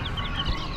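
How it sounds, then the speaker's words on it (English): A rooster at an Amish animal auction makes brief clucking and squawking calls, close by, over a steady hum of barn and crowd noise. "And a rooster."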